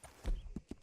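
Horse hooves clip-clopping in the video game Red Dead Redemption 2, a few close, distinct thuds in uneven rhythm as the horse slows to a halt, over a low background rumble.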